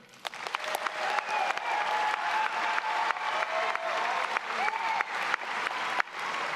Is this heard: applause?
yes